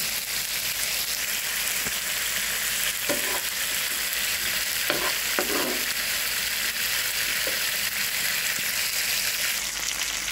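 Chicken cafreal, a Goan dish, cooking over a slow fire gives a steady, close, even sizzle throughout, with a few short scraping stirs. No one speaks.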